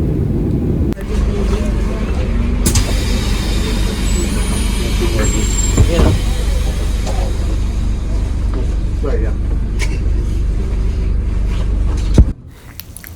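Airport shuttle bus carrying passengers from the plane after landing, its engine rumbling steadily and close throughout, with voices talking in the background and a sharp knock near the end as it settles.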